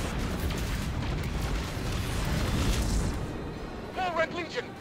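Missile wave explosions in Destiny 2 boom in a dense, continuous rumble across most of the stretch, tapering off near the end as a few brief tonal game effects chirp in.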